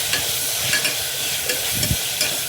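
Chopped tomatoes fry in a pan and are stirred, giving a close sizzle broken up by scraping and clacking knocks of the spoon against the pan, with no one talking.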